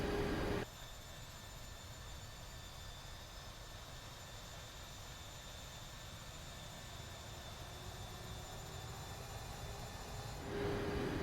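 A simulated Boeing 737 Max 8 in Air Canada livery taxis in Prepar3D, its jet engines giving a steady, faint, continuous whine and rumble with a constant tonal hum and no talk.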